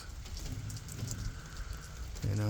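Steady rain with gusting strong wind, a continuous soft hiss and patter outdoors, fairly faint throughout, with a louder burst of low rumble near the end.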